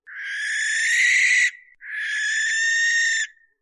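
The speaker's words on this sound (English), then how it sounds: "Hal, do an impression of a barn owl." Two long, harsh, hissing screeches of a barn owl, each about a second and a half, loud and close with a brief gap between them and no other sound.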